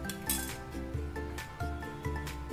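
A pot of eggless chocolate cake batter set down on a gas stove gives a few bright metallic clinks, close and fairly loud, spaced irregularly over a low steady background hum.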